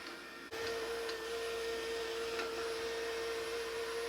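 A Narwal T10 self-cleaning robot mop and vacuum switches on after a short pause, then runs with a steady whirring motor hum and a faint high whine, close and continuous, with no talk.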